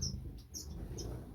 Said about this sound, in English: Possibly up there, golden finches, more starfinch, possible starfinches there.